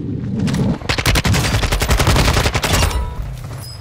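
Rapid automatic gunfire in the shooter Modern Warfare 2, a loud, dense burst of closely spaced shots lasting about two seconds, trailing off into a ringing tail.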